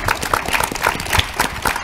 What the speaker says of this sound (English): I want to thank our panelists with a round of applause